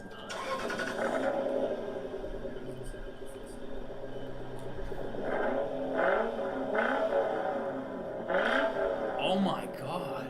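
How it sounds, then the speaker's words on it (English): A modded car with an aftermarket exhaust revs in a sustained, loud engine roar that swells in several pushes, heard under people talking over it. "How does it sound? Let's listen. Oh, someone's putting it's probably modded."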